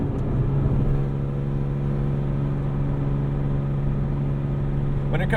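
A 2006 Porsche Cayman S with a full IPE exhaust drives along, its engine holding a steady, resonant drone heard from inside the cabin, fairly even in pitch and loudness.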